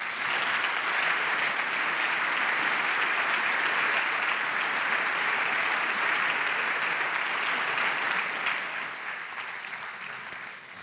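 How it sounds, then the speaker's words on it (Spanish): Audience applause sends off a departing minister at a Basque rail conference, a dense, steady wash of clapping from a large crowd that holds evenly for about eight seconds before thinning and fading slightly toward the end. "Despedimos ya al señor ministro con un aplauso, por favor."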